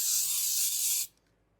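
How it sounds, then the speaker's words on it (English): A can of Baker's Joy baking spray hisses steadily onto a speckled stoneware bread pan for about a second, a close, bright continuous spray that stops cleanly before a brief clack. "So we are going to spray this with Baker's Joy."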